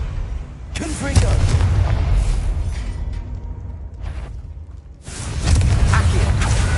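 Fiery spell blasts from the Confringo curse in Hogwarts Legacy, heavy booming bursts that fill the clip, with a louder explosive surge near the end and a voice speaking in between.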